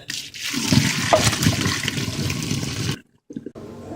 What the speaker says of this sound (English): Now strain the bok choy.